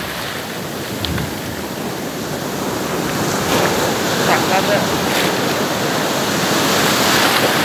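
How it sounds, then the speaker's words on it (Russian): Ocean waves in Vietnam wash and roll onto the shore in a steady surf roar that swells louder, with a few brief spoken words in Russian near the start. "И шум волн"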